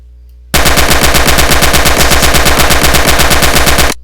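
A WWII-era submachine gun fires in a Garry's Mod game, loud and close, as one unbroken automatic burst of evenly spaced rapid shots lasting about three and a half seconds before stopping sharply.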